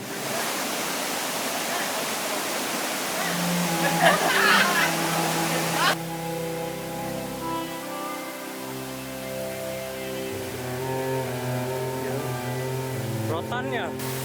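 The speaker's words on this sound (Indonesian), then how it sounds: "aliran sungai Curug Cisadane ini" Curug Cisadane waterfall and its river rush through tropical forest in Gunung Gede Pangrango National Park, a steady loud roar that later continues more softly beneath sustained musical tones.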